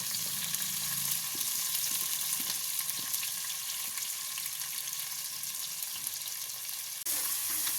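Onions for vegetable biryani frying in hot oil in a pan, a steady close sizzle with faint stirring taps throughout.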